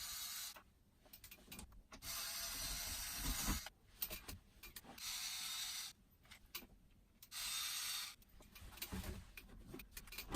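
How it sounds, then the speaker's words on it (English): Intermittent ratcheting and scraping as screws come off an RV Dometic Midi-Heki rooflight vent, in several bursts of a second or two separated by faint handling noises, close but fairly quiet. "So I'm going to take off the screws."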